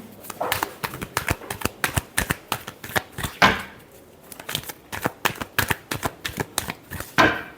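Tarot cards being shuffled by hand in a series of quick, crisp riffling bursts, close and fairly loud, with brief pauses between handfuls and no talk.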